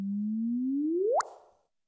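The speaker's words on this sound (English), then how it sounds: "So that's what gravitational waves sound like." Gravitational waves from two orbiting neutron stars, sonified as a clean tone that rises slowly in pitch and sweeps sharply upward into a sudden chirp at the merger, then fades out quickly.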